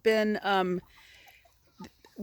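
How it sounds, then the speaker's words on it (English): A couple of soft, nasal clucks from a meat chicken nearby, then quiet with faint shuffling and scratching. "So these are our meat chickens here."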